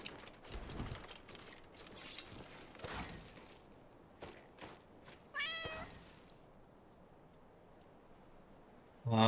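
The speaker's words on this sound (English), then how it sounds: "The cat's meowing at me." A cat meows in Skyrim, a few short cries among scattered clicks, thuds and footsteps in a fairly quiet game scene with no talk.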